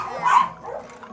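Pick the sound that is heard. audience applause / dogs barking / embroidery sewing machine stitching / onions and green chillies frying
dogs barking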